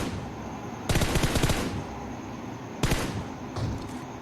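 Bursts of automatic gunfire from a gun in a video game: a long rapid volley, then two shorter bursts, loud and close, with no talking over them.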